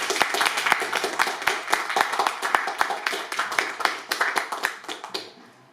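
An audience at an evening reading event claps in sharp, uneven bursts that stay fairly strong and then taper away near the end.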